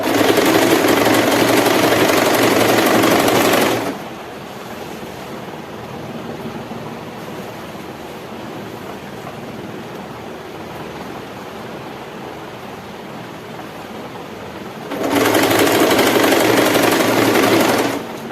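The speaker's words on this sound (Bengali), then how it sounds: "আমি যেহেতু উল্টো দিকে সেলাই করছি, শাড়িটা বসিয়ে উল্টো দিক দিয়ে" Sewing machine stitching the underside of a sari, running fast and steady in a loud continuous whir, pausing for about eleven seconds of quiet room hum, then starting up again just as loudly.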